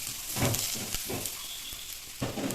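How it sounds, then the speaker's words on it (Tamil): Hissing, crackling sizzle of spices tempering in hot oil for rasam, steady throughout with a few brief louder bursts. "இப்போ ரசத்தை தாளிக்கிறாங்க பாருங்கள்"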